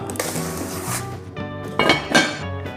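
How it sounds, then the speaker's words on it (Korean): Scored sourdough dough made with homemade levain going into the oven, heard as a short run of metallic clinks and clattering knocks from cookware and the oven, close and fairly loud. "오븐에 넣어줍니다."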